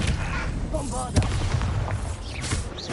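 Booming blasts and impacts from Bombarda spells in Hogwarts Legacy, loud and close and repeated through the clip, with a voice speaking over them.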